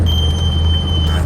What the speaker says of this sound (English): Squeaky brakes.